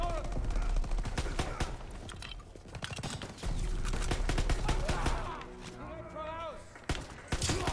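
Gunfire in a Call of Duty WWII campaign battle: dense, rapid shots crackle over a busy mix of game noise, with voices talking at points.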